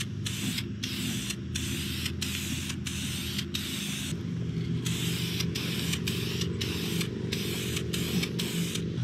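Wrinkle finish paint sprayed from an aerosol can in a rapid series of short hissing bursts with brief pauses between them, loud and close, over a steady low hum.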